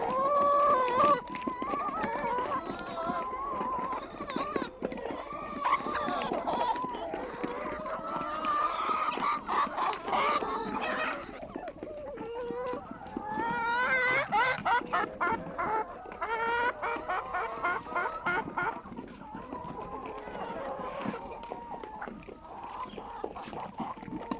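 Ligurian roosters in a farmyard cluck and crow close by, with repeated bursts of clucking and calling coming in uneven, overlapping phrases.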